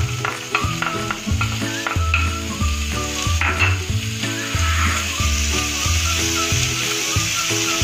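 Chopped onion and capsicum fry in hot oil, giving a loud, continuous close sizzle with stirring scrapes throughout, under steady background music.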